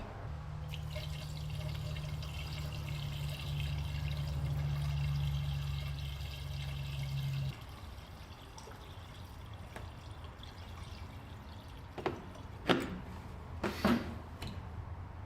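Water from a gallon jug poured steadily into the cooling system of a Dodge pickup with a 440 engine swap, a continuous gurgling fill lasting several seconds, then quieter trickling with a few sharp knocks.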